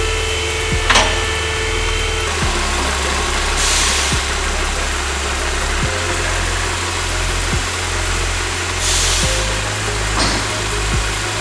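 A Volkswagen car engine idles with a steady, loud mid-range hum and faint periodic ticks, running continuously and close with no talking.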